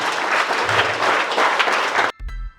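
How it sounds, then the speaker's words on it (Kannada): An audience at a felicitation ceremony for an army recruit bursts into loud, dense applause that holds steady for about two seconds, then stops abruptly, followed by a low thump. "ಮಲ್ಲಿಕಾರ್ಜುನ್ ದರ್ಯಪ್ಪ ಗುಡಿಗೇರಿ ಅವರಿಗೆ ಅಭಿಮಾನಪೂರ್ವಕವಾಗಿ ಒಂದು ದೊಡ್ಡ ಚಪ್ಪಾಳೆಯನ್ನು ನೀಡೋಣ."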